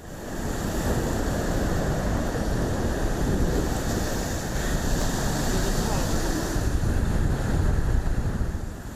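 Caspian Sea waves breaking on the shore near Niyazabad village, Khachmaz district, heard as a continuous loud rush heavily buffeted by wind noise on the microphone, with no pauses.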